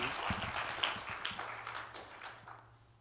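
A congregation at a revival service applauds briefly with scattered clapping that fades out, leaving a low hum behind.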